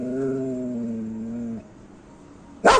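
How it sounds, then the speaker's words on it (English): A dog gives one drawn-out, steady howling whine that lasts over a second and then stops. After a short quiet gap, a brief loud burst of noise follows. No one speaks. "D for dog."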